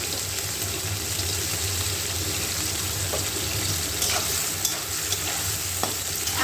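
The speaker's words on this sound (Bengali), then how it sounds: "সুন্দর করে ভেজে নেব" Dried Bombay duck (loitta shutki) fries in a pan with a constant dense sizzle. It is stirred, with occasional soft scrapes and taps over the hiss, close and fairly loud.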